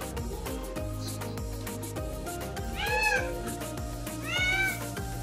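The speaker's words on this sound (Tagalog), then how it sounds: "maingay yung alaga kong Mimin" A pet cat meows loudly twice, each a drawn-out rising and falling cry, close by over a steady low background hum.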